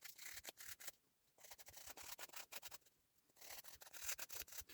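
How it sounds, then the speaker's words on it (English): A nail file is rubbed gently across the soft edges of cured UV resin, giving quiet rapid back-and-forth scratchy strokes in two bursts separated by brief pauses, close and faint. "I'm just going to take this no drama llama nail file and just gently, because it's still quite soft, I should be able to just gently sand the edges"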